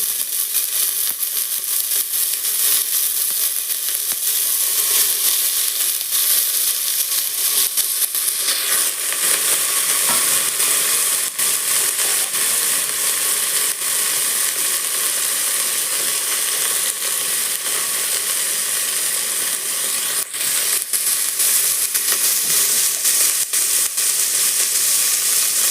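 Valor beans for Gujarati undhiyu sizzle loudly and continuously in a hot pan, a dense unbroken hiss with faint stirring scrapes, close and alone without speech.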